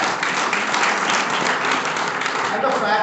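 Audience at a National Science Day event at Amity University Lucknow breaks into loud, dense, sustained clapping throughout.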